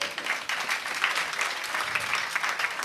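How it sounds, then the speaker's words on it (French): Audience applause for a student association at the final of a student eloquence contest, a steady dense clapping that fills the whole stretch with no voices over it. "Applaudissez l'association."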